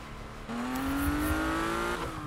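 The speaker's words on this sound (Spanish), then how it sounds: "Suena extraordinariamente bien, de verdad, cómo ruge el motor" A sports car's engine roars and revs in the Need for Speed racing game, its pitch climbing steadily as it accelerates hard and loud, with no talk over it.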